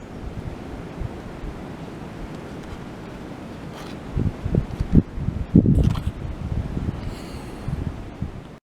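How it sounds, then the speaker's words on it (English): Wind blowing outdoors on an Earth Day walk, a steady low rumble buffeting the microphone, with stronger gusts swelling in the second half. "He loves exploring the wind on his Earth Day walk."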